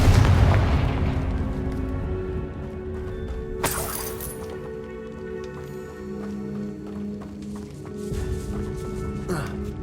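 A Confringo spell explosion in the Hogwarts Legacy video game opens with a heavy, booming blast that fades into rumbling debris and game ambience, then a sharp burst and lighter crackles follow.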